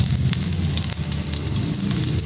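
Onions sautéing in a pan for a macaroni dish, giving a steady close sizzle with a dense crackle of small pops that holds level and never lets up, and no voices over it.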